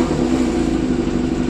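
Small engine revving steadily after a pilot jet was installed in its carburettor, a close, loud, continuous mid-pitched drone with a slight rising edge and no talk over it.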